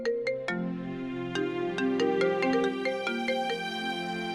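A mobile phone ringtone plays alone, a bright melodic electronic tune of rising and falling notes repeating steadily at moderate volume against a quiet indoor background.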